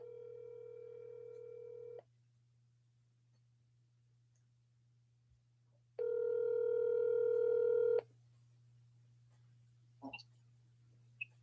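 A telephone rings twice while a call is placed to a friend, each ring a steady two-second tone separated by silence under a low hum, followed by faint clicks.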